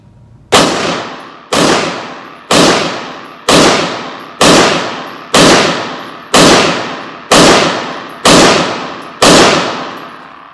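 Ten shots from a Beretta M9 pistol at a 25-meter range, loud sharp reports fired at a steady pace about one per second, each ringing out briefly.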